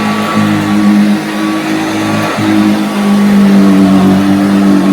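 A 1950s Hoover Junior 119 upright vacuum cleaner runs continuously on a concrete floor, a loud steady motor whine with a brief dip in the middle, close and without talking.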